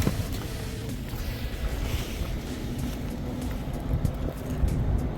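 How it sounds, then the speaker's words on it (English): Steady low hum and road rumble inside a BYD Atto 3 electric car, from either its motor or its air conditioner, a continuous drone with faint wind noise and no talking. "Don't know if that's the air conditioner or the engine noise, but it's a noticeable difference to the sort of UFO noise"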